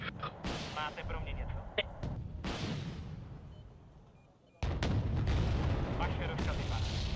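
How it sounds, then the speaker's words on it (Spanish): Mortar and artillery fire in Wargame Red Dragon on a paddy field map, sharp loud blasts with rumbling tails in separate bursts, then a sudden heavy barrage near the end, under player chatter in Spanish. "Tienen morteros y artillería."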